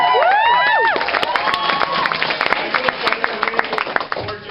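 A large crowd gathered in a library overflow room breaks into loud applause and cheering with whoops and shouts, sustained clapping and rising voices filling the whole clip.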